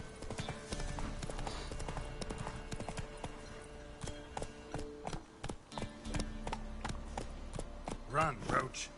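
Roach, a horse in The Witcher 3, galloping with steady repeated hoofbeats through the clip, alongside game music and a voice talking over it.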